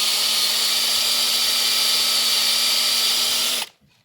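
Power drill grinding continuously through rivet heads on a C4 Corvette, a loud steady high-pitched whine for several seconds that stops abruptly at the end.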